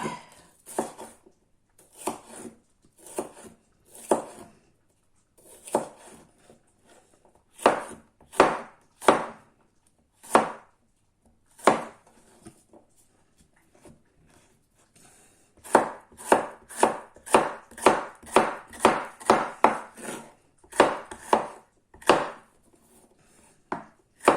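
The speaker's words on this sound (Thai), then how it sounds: "จะหั่นแบบไรก็หั่นหั่นเป็นลูกเต้าก็หั่นไป" A knife chops pizza ingredients into cubes on a cutting board, crisp close knocks in uneven runs, sparse at first and then a fast steady series near the end, with no voices.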